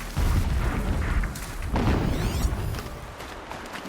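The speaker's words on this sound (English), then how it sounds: "Explosions in the distance." Deep booming explosions rumble in the distance in the video game Horizon Zero Dawn, a low rolling roar that swells twice and then fades, with no voices over it.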